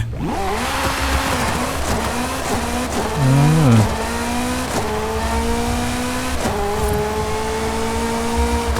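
A Ferrari F40 supercar drives in a racing game, its engine droning steadily and rising in pitch through repeated gear changes, with a brief louder rev near the middle and a continuous close, loud tone throughout.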